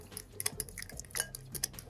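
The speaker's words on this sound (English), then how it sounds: "Fork and whisk." Quick metallic clinks and taps of a fork whisking a sauce with lemon juice in a bowl, irregular and close, in short bursts.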